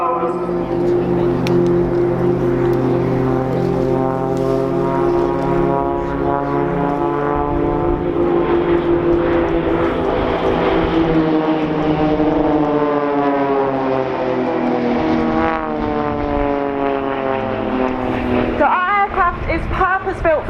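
An Extra 300 aerobatic aircraft of The Blades team makes a loud, sustained engine drone on a display pass at Dunsfold Wings & Wheels, the pitch sliding as it rolls by, under a continuous commentator's voice.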